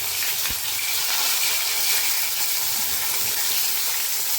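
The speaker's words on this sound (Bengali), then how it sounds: "এখানে মাছ ভাজা চলছে" Fish fries in hot oil in a home kitchen, giving a continuous, even sizzling hiss, close and fairly loud, with no talking.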